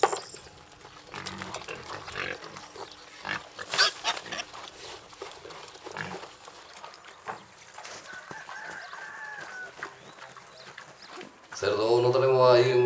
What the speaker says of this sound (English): I have 2 sows and several piglets for private use